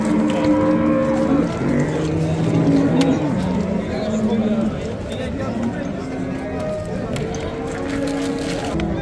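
Cattle at a Friday livestock market in Pastdarg'om, Samarkand, with several long, low moos rising and falling over a crowd of talking voices and general market bustle.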